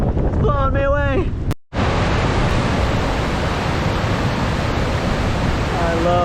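Strong outdoor wind roaring hard against the microphone in a steady, loud rush after a brief voice and a short cut, with more talking returning at the end.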